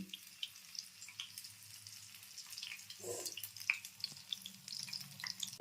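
Pumpkin flower and moong dal fritters fry in hot oil, giving a faint, steady sizzle with scattered soft crackles and a brief stirring noise, close but quiet.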